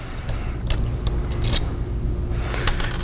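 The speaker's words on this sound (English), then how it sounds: "We'll take out the screws just like that." Screws being removed from the bracket of a RedCat Everest RC car, heard as small close metallic clicks and light scraping ticks at an irregular pace over a low background hum.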